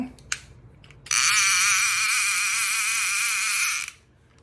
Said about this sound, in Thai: นี่คือเวลาปลาลากนะฮะปลาลากก็จะมีเสียงแบบนี้นะครับ